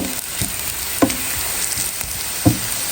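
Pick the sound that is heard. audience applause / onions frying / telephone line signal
onions frying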